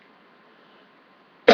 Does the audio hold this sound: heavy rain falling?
no